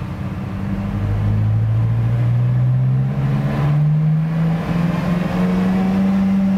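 An all-wheel-drive exotic car running on a dyno, its engine droning loudly and rising steadily in pitch as it pulls through a gear, with no talking over it.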